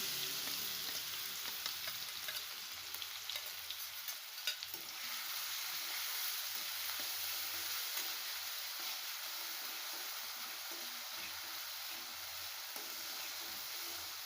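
Mixer-ground green chili paste sautés in hot oil in a pan, giving a soft, continuous sizzling hiss with a brief stir-like rustle near the middle.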